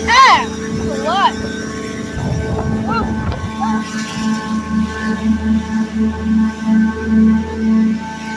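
An FP 101 aircraft running its engine at PA01, a loud steady propeller drone under strong buffeting wind gusts, with a voice talking close by at the start.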